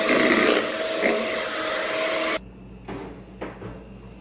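Electric hand mixer beating vanilla sponge cake batter at low speed, a steady loud motor whir that cuts off midway, followed by a few faint clanks and scrapes.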